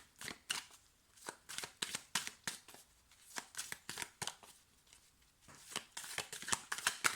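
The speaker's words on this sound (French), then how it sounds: "je vais prendre une carte pour détailler pour toi" Tarot cards shuffled by hand in a steady run of quick riffling slaps and flicks, close and fairly quiet, with brief pauses and a denser flurry near the end.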